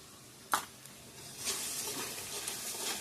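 Ground turmeric, coriander, chilli and cumin powders frying in a pan with a steady soft sizzle, a sharp clink of the spoon near the start and scraping stirs running through.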